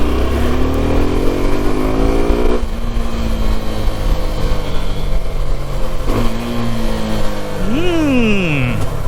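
A Suzuki V-Strom 250 SX motorcycle pulls away loudly, its engine revving through rising pitch sweeps with gear changes and a final sharp rev, a voice talking faintly underneath.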